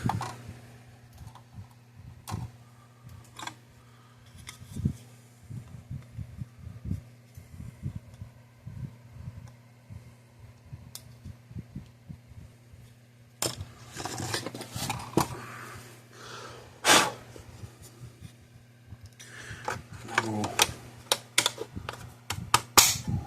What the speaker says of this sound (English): snip off what we don't need.